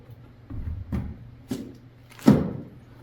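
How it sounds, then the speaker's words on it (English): A pantry door closed and locked: a series of four dull thuds and clunks, the last the loudest, close by with no talking. "Forgot to lock the pantry door."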